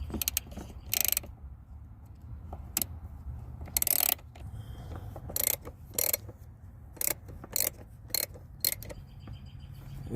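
A socket ratchet snugging an oil pressure sensor on a Cadillac CTS 3.6L gives intermittent bursts of sharp mechanical clicking, with short clusters separated by quiet pauses and low background rumble, close up and no speech.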